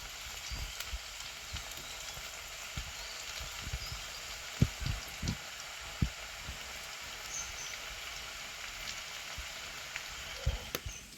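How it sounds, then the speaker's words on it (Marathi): Capsicum fritters sizzle steadily in hot oil, a continuous crackling hiss with scattered soft pops and light knocks from the pan, heard close and without talking. "आता ही पण भजी मी सोनेरी रंगावरती कुरकुरीत अशी तळून घेतो"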